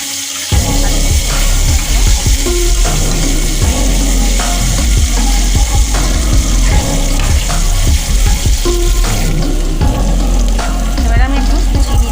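Fried potatoes with cashews and raisins crackle and sizzle loudly in a hot pan while a spatula stirs them, a dense continuous frying hiss with scraping stir strokes, close up.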